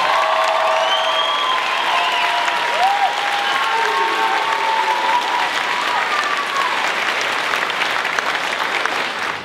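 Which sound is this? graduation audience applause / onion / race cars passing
graduation audience applause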